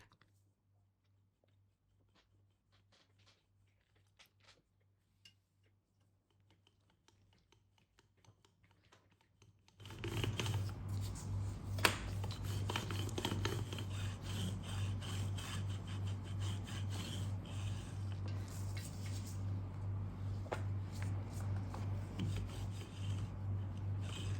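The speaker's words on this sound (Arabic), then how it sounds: "نرش سطح العمل بالدقيق ثم نضع العجينة ونغلفها أيضا بالدقيق حتى يسهل علينا الفرد" Whole wheat saj dough with bran is rolled out on a floured work surface, a steady close rubbing and rasping that starts abruptly after near silence and continues evenly to the end.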